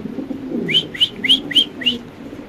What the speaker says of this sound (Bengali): সো দর্শক এখানে আছে এক্সিবিশন কবুতর